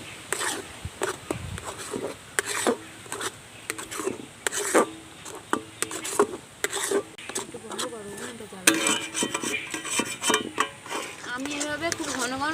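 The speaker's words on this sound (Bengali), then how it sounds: "আমি এভাবে খুব ঘন ঘন নাড়তে থাকবো," Raw green mango pulp stirred in a pan over low heat, a spoon scraping and knocking against the pan in quick irregular strokes, with faint sizzling underneath and a voice talking over it throughout.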